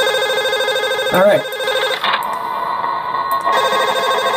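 Telephone rings in the horror video game Five Nights at Smudgers 3, a steady electronic ringtone repeating loudly through the clip, briefly broken as someone speaks a single word.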